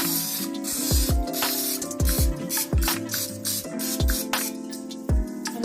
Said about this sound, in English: And now I'm just going to spray it with a little bit of olive oil.